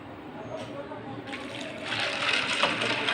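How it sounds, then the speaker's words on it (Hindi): Water poured over black-eyed beans to soak them: a steady, soft gushing pour that grows fuller and brighter as it goes on, heard fairly close with no talk. "हम लोबिया को पानी में डिप कर देंगे।"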